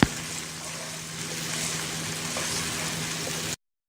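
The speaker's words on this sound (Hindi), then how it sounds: "अब मैं इसमें अदरक लहसुन का पेस्ट डाल रही हूँ, और इसको 1 से 2 मिनट तक के लिए फ्राई करती हूँ।" Ginger garlic paste frying in a pan for a beef liver dish, giving a steady, close hiss and crackle of hot oil that holds evenly for a few seconds before cutting off abruptly.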